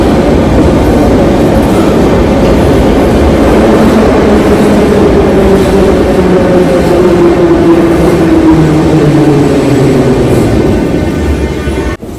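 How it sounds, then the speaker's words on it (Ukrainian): Kyiv metro train ride, a loud steady rumble of the moving subway car throughout with rolling wheel noise and a gradually shifting motor whine, no talking. "Зараз іду на метро і їду в центр."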